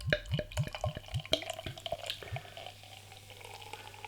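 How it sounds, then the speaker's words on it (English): Crew Republic Drunken Sailor, a German craft IPA, glugs out of a bottle into a glass in a quick rhythmic run of about eight gulping pulses, then settles into a softer fizzing trickle. "beer pouring out"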